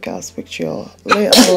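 A sharp sneeze bursts out right after a person finishes a short spoken phrase, loud and close.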